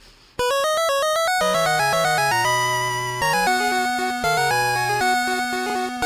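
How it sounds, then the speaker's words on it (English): Bright, bouncy electronic jingle from Pokémon Gold, Silver and Crystal, with stepping melodic notes over a steady bass line, loud and continuous with no voices. "Oh, we've got some jingles here. Let's enjoy some jingles."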